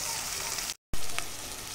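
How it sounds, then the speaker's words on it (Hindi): Egg chicken biryani base fries in a pot with hot spices, giving a loud, bright sizzle that drops out briefly and then returns with a sharp hiss, with no talk. "इसको हम अच्छी तरह से फ्राई करके इसमें सारे गर्म मसाले नमक मिर्च वगैरह सब कुछ डाल देंगे"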